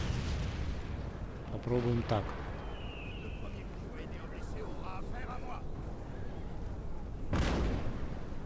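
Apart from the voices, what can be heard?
artillery cannon fire in Napoleon: Total War video game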